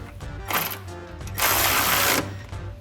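A ratchet with a 16mm socket tightens the upper brackets of power running boards under a 2021-2026 Ford Bronco frame, giving two bursts of close, rapid clicking, a short one then a longer one.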